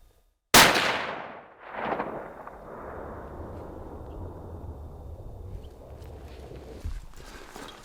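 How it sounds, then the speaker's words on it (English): One sharp, loud rifle shot aimed at a mule deer buck in the Idaho backcountry, followed by a long rolling echo that fades slowly across open terrain, with faint movement sounds afterward. "Jake just shot that buck, 340 yards."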